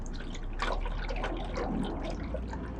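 Coolant gurgles and bubbles as it is topped up in a Jeep Rubicon's cooling system, with air burping out in a steady, close-up trickling wash of liquid and intermittent pops.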